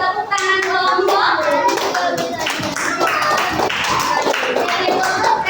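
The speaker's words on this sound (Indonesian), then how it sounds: "Tepuk tangan kelompok." A classroom of fourth-grade pupils claps for a presenting group, a dense run of quick, loud, close hand claps that continues steadily throughout with a few voices mixed in.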